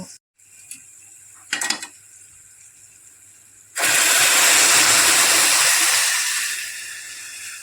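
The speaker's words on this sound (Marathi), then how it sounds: "यात आता दूध ओतून घेऊ" Milk is poured into a hot pan of fried vermicelli and raisins for kheer, setting off a sudden loud, sustained sizzling hiss that slowly eases. Before the pour there are a few quiet clinks and rustles.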